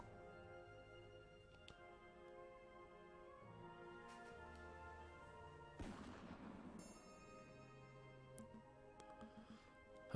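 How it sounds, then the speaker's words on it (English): A single sharp gunshot rings out nearby in the video game Aviary Attorney, a sudden crack that rises over the game's background music and then fades. "A gunshot. It was nearby,"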